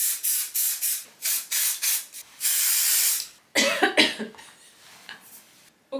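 Dry shampoo sprays onto a greasy curtain fringe in a series of short close hissing bursts, then one long blast, followed by a few coughs.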